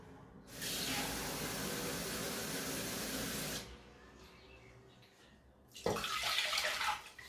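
Water from a glass pours into a cooking pot for a Turkish fava bean dish, two loud steady splashing bursts of a few seconds each separated by a quieter pause.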